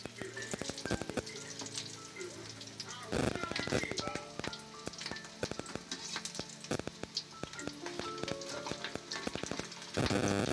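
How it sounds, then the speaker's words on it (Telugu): Fish eggs fry in a hot pan, a steady dense sizzle broken by bursts of scraping and clatter as they are stirred and turned, close and fairly loud throughout. "ఇలా కదుపుతూ ఒకవైపు దోరగా వేగాక"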